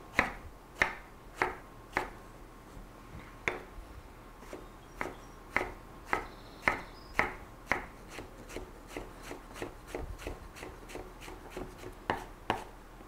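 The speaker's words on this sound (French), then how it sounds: "La pulpe de l'aubergine, on va la hacher grossièrement." A knife coarsely chops eggplant pulp on a cutting board, producing steady crisp taps about once per second, close and clear, with no talk.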